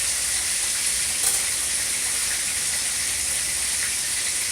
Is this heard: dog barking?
no